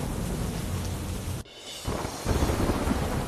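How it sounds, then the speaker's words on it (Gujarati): Heavy rain with strong wind lashes Rajkot at night during Cyclone Biparjoy. A steady, loud roar drops out sharply for a moment, then returns even stronger. "રાજકોટમાં રાત્રે પવન સાથે વરસાદ વરસ્યો"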